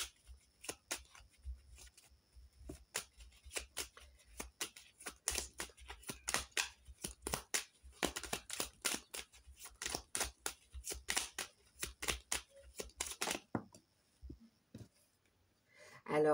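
Tarot cards are shuffled by hand for a card reading, making rapid close riffling and flicking bursts that go on for several seconds, then fall quiet near the end.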